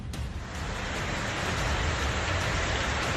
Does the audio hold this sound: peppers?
no